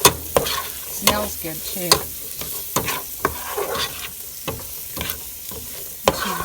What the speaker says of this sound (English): So now I'm going to stir this around.